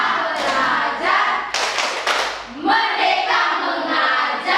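Bursts of schoolchildren's hand clapping in a patterned classroom clap chant, loud and close, with brief pauses between phrases.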